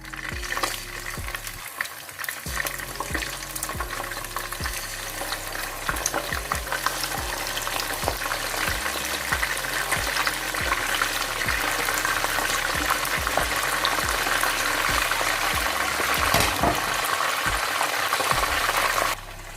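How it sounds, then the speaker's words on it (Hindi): Fish pieces sizzling in hot oil in a pan for Urdu-Hindi style fish masala (machli ka salan), a loud, steady frying hiss with occasional stirring knocks, close and continuous. "एक मैंने फिश का निकाल लिया है फ्राई करके और दूसरी दफ़ा मैंने डाल दिए हैं"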